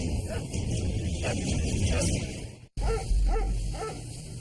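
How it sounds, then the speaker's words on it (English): A police K-9 dog barks in repeated short bursts in a wooded search area, fairly close and loud over steady outdoor noise, with a brief dropout midway. "Dog's barking."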